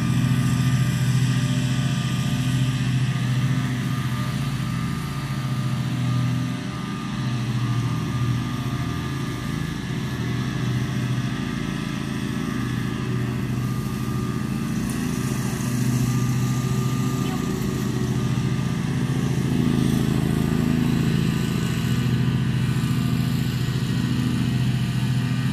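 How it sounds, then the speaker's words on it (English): A lawn mower engine drones steadily and fairly loud nearby, a continuous low hum that runs throughout without letting up. "Watching the lawnmower go."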